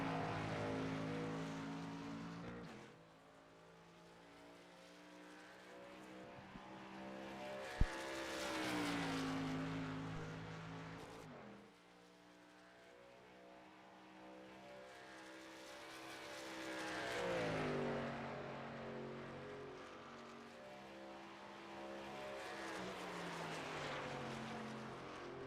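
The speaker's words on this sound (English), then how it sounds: "the first truck to leave the pit lane here to start his first of 2 qualifying laps here" A NASCAR Truck Series race truck leaves pit lane at Atlanta to begin its qualifying lap. Its engine roars and climbs through the gears in long rising sweeps, loud and steady, then swells and fades as it passes.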